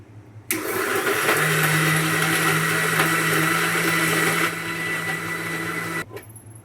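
A kitchen mixer grinder blends tomatoes with a little water into a smooth gravy paste, a loud steady whirring that starts suddenly, runs for several seconds, then cuts off.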